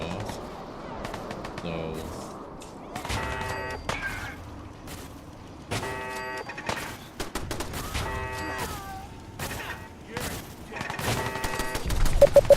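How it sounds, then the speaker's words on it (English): Bursts of gunfire from the video game Fallout 4 crack repeatedly amid game sounds and chimes, some shots sharp and close, others spaced apart, with someone speaking briefly over it. "I'm already hearing guns going off"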